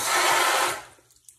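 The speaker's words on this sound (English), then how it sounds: "Rinse my meat." Corned beef is rinsed under a running tap in a kitchen sink, a short close rush of water that stops after under a second and leaves a few faint clinks.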